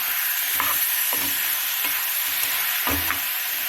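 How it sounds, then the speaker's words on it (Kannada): Tomatoes fry in oil in a pan for a bitter gourd stir-fry, a steady broadband sizzle with several distinct scraping stirs of a spoon against the pan, close and clear with no talking. "ಈಗ ಇದನ್ನು ಒಂದು 2 ನಿಮಿಷ ಹೀಗೆ ಫ್ರೈ ಮಾಡ್ಕೊಬೇಕು"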